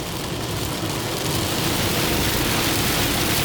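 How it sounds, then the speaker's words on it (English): Heavy rain pours steadily while driving on the highway from Miami to Orlando, a dense, constant roar of water on the car that swells slightly louder toward the end, with no talking. "It always rains."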